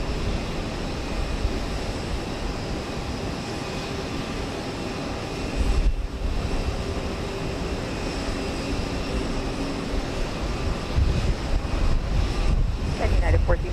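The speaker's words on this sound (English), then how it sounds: "Lots of planes lined up to take off." Airliners roll for takeoff at Houston Intercontinental airport, a steady broad jet roar with wind buffeting the microphone, swelling slightly louder toward the end, no talk.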